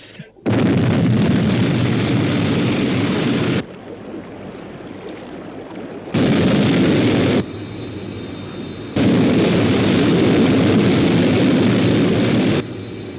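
The Sky 1 interceptor aircraft from the British sci-fi series UFO roars in loud, broadband jet bursts that start and cut off abruptly, with quieter rushing gaps between the three blasts. No speech is heard.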